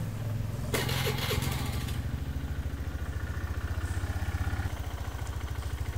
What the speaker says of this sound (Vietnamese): Các bạn sẽ đè cho máy nổ khởi động lên.